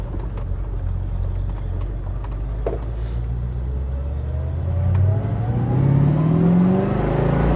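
A 1968 Oldsmobile 442 convertible on a test drive, its V8 engine droning steadily from inside the car, then climbing in pitch and volume as it accelerates hard, with no talk.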